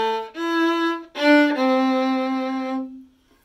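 A solo violin plays the opening notes of a song, a short phrase of bowed notes with a brief gap, ending on a long held tone that fades out.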